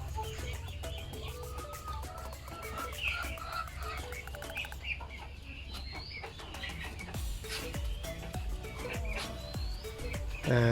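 A white-tailed fighting rooster at a small farm in the evening makes soft clucks and calls, quiet and intermittent, with other birds chirping and some wing flapping in the background.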